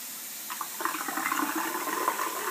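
Water rushes and gurgles as a toilet flushes and drains, a close, fairly quiet swirl with no talking.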